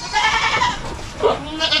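Farm goat, a black one among the herd, bleating loudly and close, a long wavering call followed by a second shorter cry.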